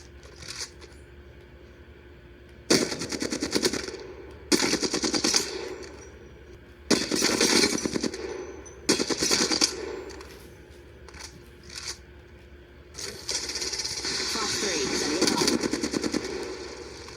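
Machine gun fire in a video game comes in several rapid bursts of a second or so each, loud and close, separated by quieter gaps with a low steady hum.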